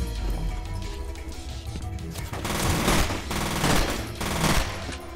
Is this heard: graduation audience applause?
no